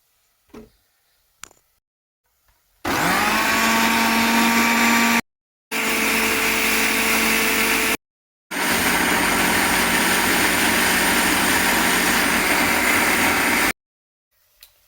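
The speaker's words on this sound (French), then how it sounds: "je vais mixer le poivron et la tomate" A blender purées cut bell pepper and tomato with no added water. Its motor whirs loud and steady in three long runs separated by brief pauses, with no one talking.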